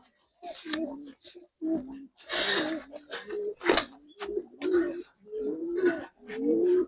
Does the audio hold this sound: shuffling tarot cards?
no